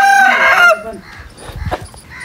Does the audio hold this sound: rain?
no